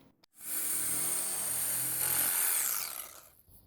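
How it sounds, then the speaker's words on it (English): A hand saw cuts back a length of PVC septic leach field pipe, a steady close rasping stroke that builds briefly, then fades and stops. "I cut the pipe back a bit"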